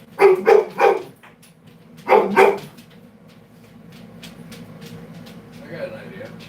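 A dog barks in a quick run of three loud barks, then two more after a pause, followed by quieter background sound, heard close and alone during a livestream.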